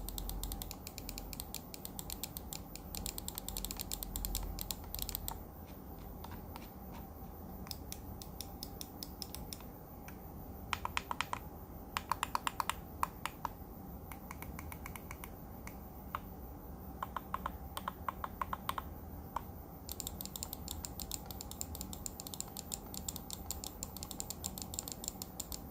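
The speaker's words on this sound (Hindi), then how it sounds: "माउस क्लिक बटन्स जो हुआनो स्विचेस के साथ हैं, as compare to Omron switches cheaper and more rigid होते हैं। इनकी साउंड कुछ यूं है।" Rapid, steady mouse button clicks from a Fantech Phantom X15 gaming mouse fitted with cheap, stiff Huano switches, close and fairly quiet, running continuously with a few denser bursts of sharp ticks and no talking.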